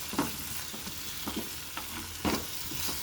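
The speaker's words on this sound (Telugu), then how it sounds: "శనగపప్పు వేసేస్తున్నాను." Chana dal soaked for two hours sizzles in a pan of hot oil, with several close scraping stirs of a spoon over a constant frying crackle.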